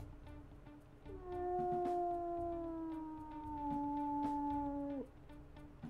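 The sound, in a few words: wolf pup's low howl in video game WolfQuest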